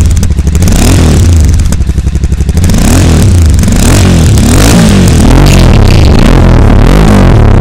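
A Royal Enfield Super Meteor 650 with a modified aftermarket exhaust revs hard and loud up close. The deep throaty blats rise and fall with crackles between throttle blips, filling the whole span without talk.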